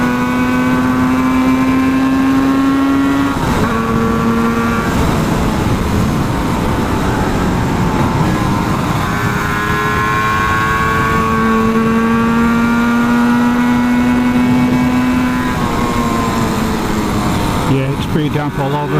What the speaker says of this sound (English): Don't know if you can hear the engine on this thing, but once it gets wound up, it goes pretty well.